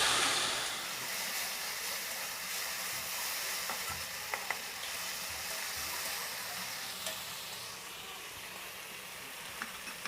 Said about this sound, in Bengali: চিংড়ি মাছগুলো হালকা করে ভাজবো।